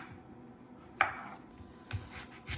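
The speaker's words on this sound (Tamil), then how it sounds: "இதில் எல்லாத்தையும் சின்ன சின்னதாக வெட்டணும்." A knife chops tomato, onion and lettuce into small pieces for chicken wraps, giving a couple of sharp, quiet cuts against a board over faint background rustle.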